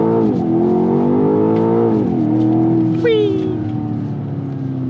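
A BMW X6 M Competition 2024 with a turbocharged engine revs and accelerates in short, hard-pulling gears. The loud, continuous engine drone rises and falls in pitch, with a higher whine appearing near the end.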